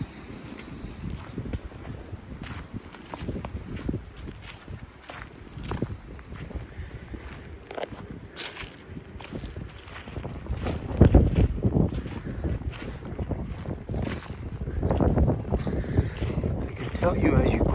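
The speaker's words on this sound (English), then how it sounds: "there definitely is a lot more wind up here. I've covered the microphone to some degree" Wind gusts buffet a partly covered microphone in an open clear-cut clearing, a continuous low rumbling roar that swells louder toward the end, with a person talking and faint footsteps underneath.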